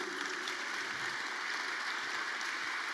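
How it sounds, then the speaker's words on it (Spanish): A church congregation claps together during a sermon, a dense, steady wash of applause holding at an even level throughout with no speech over it. "denle un aplauso si están entendiendo."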